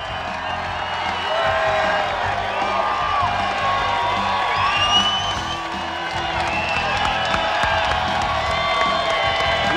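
Thousands of fans lining the shores of the Detroit River cheer and whoop at the 1999 Gold Cup boat race, a loud, dense, sustained crowd roar with scattered shouts throughout.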